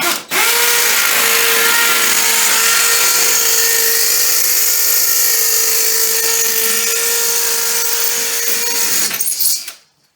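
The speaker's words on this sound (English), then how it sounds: "switch drill bits to the smaller size one and go ahead and drill all the intermediate holes straight through" Power drill boring straight through a steel strap into a basement foundation wall during a bowing-wall repair, a loud continuous high whine that runs steadily for about nine seconds and then cuts off abruptly.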